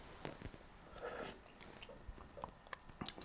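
Someone tasting Nissin Demae beef-flavour instant noodle soup, with close, quiet slurps, sips and mouth sounds in short bursts, no talking.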